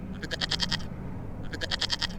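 Rudolph the goat gives two quick bleats, each a wavering, pulsing cry, close by and separated by a short pause, over a low background murmur.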